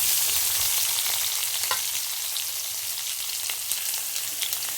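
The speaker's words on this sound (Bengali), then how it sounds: "হালকা হালকা আমার ভাজা হয়ে এসছে" Mixed vegetables fry gently in a pan at home, a soft continuous sizzle with a few faint scrapes of stirring, close but fairly quiet, no voices.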